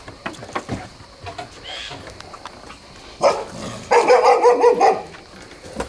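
A dog barks in a quick run of loud, close yaps, preceded by a single sharper bark, with faint background noise and movement earlier.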